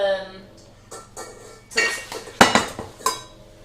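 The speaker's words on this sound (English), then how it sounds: "Now this one says whisk for around 5 minutes." A PME baking kit mixture whisked in a bowl gives scattered metallic clinks and taps, getting louder and busier midway, with a brief voice near the start.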